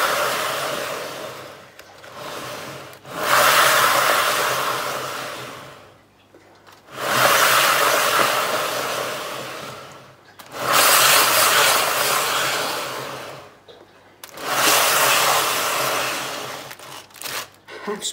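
An acrylic pour painting whirs on a spinner in four loud bursts of several seconds each, the motor winding up and then fading out, with short quiet gaps between spins.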